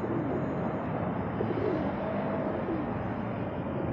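Pigeons coo faintly and intermittently outdoors on a city street in Korea, their soft calls partly buried under a steady wash of ambient urban noise.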